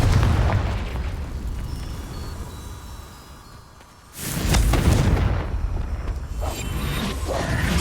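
Fiery spell blasts from Incendio and Confringo in the Hogwarts Legacy video game, heard as a loud booming burst, a rumbling fade, then another big explosive blast with crackling debris.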